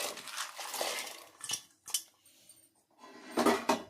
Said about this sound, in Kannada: ಅದು ಬೇಯ್ಕೊಂಡ್ಲಿ ಪ್ಲೇಟ್ ಮುಚ್ಚುತ್ತಾಯಿದ್ದೀನಿ